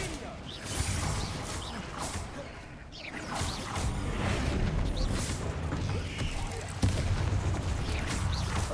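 The Bombarda blasting spell in Hogwarts Legacy goes off in repeated crashing bursts with whooshes and rumbling debris, dense and fairly loud, with a fresh sharp hit near the end. Voices speak over it.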